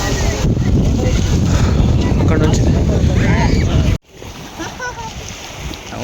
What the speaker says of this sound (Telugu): గాలి అయితే డేంజర్గా వస్తుంది.